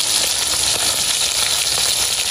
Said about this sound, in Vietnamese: Bây giờ mấy anh em sẽ chiên cho nó giòn lên một cái nha